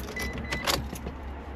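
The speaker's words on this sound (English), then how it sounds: "let's turn the car on and see if it'll even" Keys jangle close by as a 1999 Mitsubishi Toppo is switched on, with a low steady hum underneath and a short metallic rattle near the middle.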